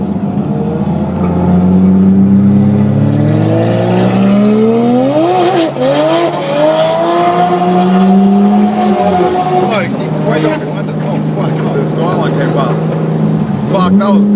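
Cars at a Powercruise event, including a modified R33 with an RB25/30 engine, rev hard and accelerate away side by side, loud engine notes rising and shifting with brief tire squeal, close by and continuous under excited talk.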